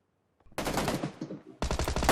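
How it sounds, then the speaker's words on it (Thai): After a moment of quiet, two bursts of rapid automatic gunfire crackle loudly in PUBG Lite, the second arriving sharply after a short break. "ไม่ไม่ไม่เสียงมันยิงกัน ไม่รู้ใครยิงใคร"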